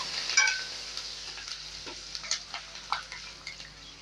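Red chillies sizzling in hot tempering oil in a pan, a soft steady crackle with occasional sharper pops and light stirring clicks, close and fairly quiet.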